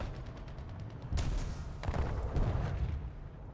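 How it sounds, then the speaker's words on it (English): Heavy booming impacts from an artillery strike in World of Tanks, a sudden loud blast followed by a few more thuds and rumbling, fairly close, with no talking. "Artillery strike over there."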